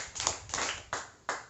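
Four sharp group hand claps from an audience at a Ramadan religious talk, struck in a slow counted rhythm with brief pauses between, close and clear with no talking over them.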